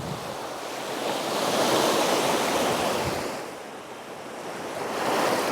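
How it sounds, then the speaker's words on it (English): Waves rolling onto a Lake Michigan beach, a broad steady wash of surf that swells and fades in slow surges, with wind noise on the microphone and no voices. "So behind me is Lake Michigan, right?"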